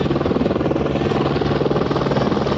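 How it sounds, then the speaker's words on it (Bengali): Helicopter touching down at a helipad on the Amarnath Yatra route, giving a steady, loud rotor and engine drone with a fast pulsing beat throughout, close by and with no voices over it. "এই হেলিকপ্টার নামলো।"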